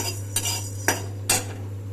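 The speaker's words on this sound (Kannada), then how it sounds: "ಮೆಣಸು ಹುರ್ಕೊತಾ ಇದ್ದೀನಿ" Pepper roasting in a dry pan while a metal spoon stirs it, three sharp scraping clinks spaced across a quiet background with a low steady hum.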